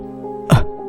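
A single short cough bursts out close and loud over a faint background drone, a sound effect within a spoken horror story.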